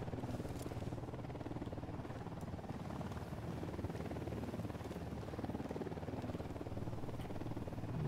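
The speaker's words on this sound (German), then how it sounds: "Ein scheiß Heli." A helicopter in Ghost Recon Wildlands drones steadily throughout, a continuous muffled rotor rumble at moderate level with no talk over it.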